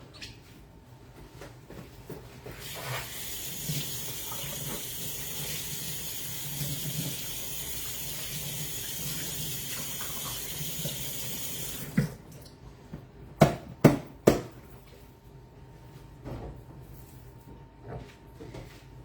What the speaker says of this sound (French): on va passer le moule sous l'eau très chaude